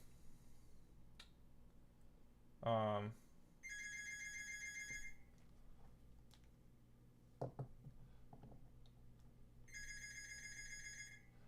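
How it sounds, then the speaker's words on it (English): A phone rings in two bursts of electronic trilling tones in a quiet room, with a brief buzzing vibration before them, faint talk between the rings. "Somebody's calling me."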